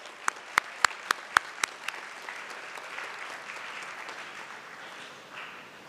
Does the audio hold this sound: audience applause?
yes